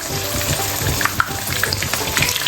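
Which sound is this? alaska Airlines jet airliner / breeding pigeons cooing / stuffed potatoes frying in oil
stuffed potatoes frying in oil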